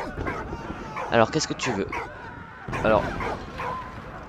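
A dog in Valiant Hearts, set in the Great War, gives two short bursts of yipping barks and whimpers, close and moderately loud, with someone talking between them.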